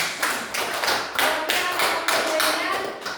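Group applause for a presenting team in a classroom-style discussion, a few seconds of uneven clapping in bursts, close and moderately loud, with no talk over it.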